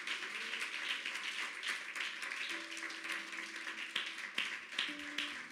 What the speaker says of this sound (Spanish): Yo sé cuánto le dan un aplauso al Señor